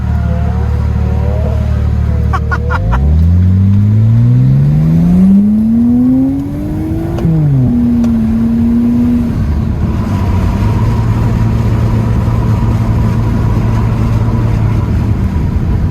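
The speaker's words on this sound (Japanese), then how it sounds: "すんげえ音するあっちゃんの車" A Nissan car engine revs up loudly nearby, its pitch climbing steadily, dropping briefly, then settling into a strong, rumbling idle with no talking.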